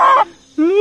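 Chicken squawking and clucking close by, two short harsh calls separated by a brief quiet gap, loud and alone.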